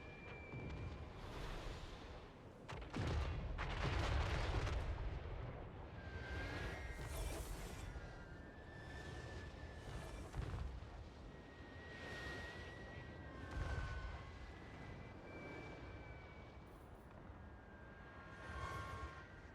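Artillery guns firing volleys in Total War: Warhammer III, repeated distant booms and whooshing blasts at a steady pace over a low battle rumble, fairly faint.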